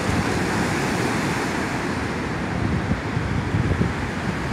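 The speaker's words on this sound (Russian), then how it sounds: "Вон огромная волна." Large sea waves break on the beach at Da Nang, Vietnam, producing a continuous broad roar of surf with some wind noise, steady and fairly loud with no voices.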